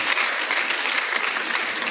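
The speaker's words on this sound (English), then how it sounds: "So please clap for yourselves." An audience at a university event, gathered for a visiting filmmaker, breaks into sustained applause, a dense, even wash of many hands clapping close and loud for the whole stretch.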